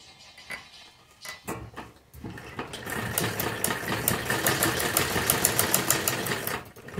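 A sewing machine stitches the elastic band of a palazzo. A few sharp taps come first, then the machine settles into a steady, close, continuous whirr of stitching that runs to the end.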